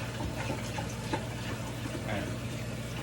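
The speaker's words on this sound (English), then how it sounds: "You can either rinse it with very little water, which is what he's doing right now" Rice being rinsed roughly and fast by hand in a small amount of water for teriyaki chicken, a steady close sloshing and swishing wash of water throughout.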